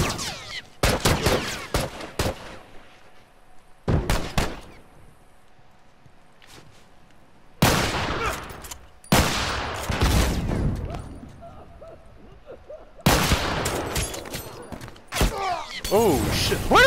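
Gunfire from an online match of the video game The Last of Us comes in sharp, loud bursts of rapid shots, separated by quiet gaps, clustered in several volleys across the stretch.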